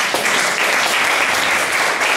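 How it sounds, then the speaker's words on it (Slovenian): Dense, even applause from an audience at a seed-sharing event fills the whole short stretch, loud and close with no break. "dejmo jo aplavz"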